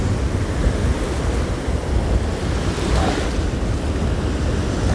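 Steady wind roars over continuous surf as waves wash onto the Black Sea shore at Anapa, a broad, unbroken rush with no voices.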